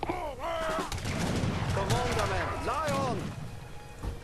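Musket volleys crackle in the video game Age of Empires 3 during a colony defense battle, scattered sharp reports under voices.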